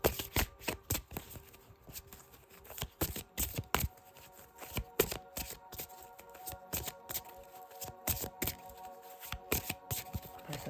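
A deck of angel oracle cards is shuffled by hand, giving sharp, close riffling and tapping bursts in an uneven rhythm, with short pauses between handfuls and no talking.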